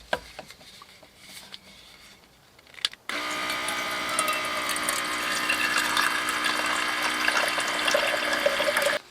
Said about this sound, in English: The auxiliary water tank with faucet inside the Alu-Cab Canopy Camper.